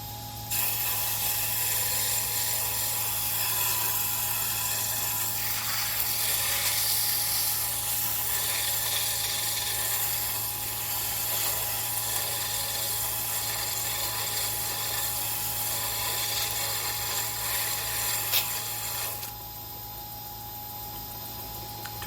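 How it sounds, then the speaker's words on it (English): A wooden wand spinning on a lathe is sanded with sandpaper at higher speed, producing a steady close whirring hiss with the motor hum underneath, continuous for about twenty seconds before the rubbing stops and only the motor is left. "what we're going to do is sand it. We can do that at a higher speed. first with 80 grit"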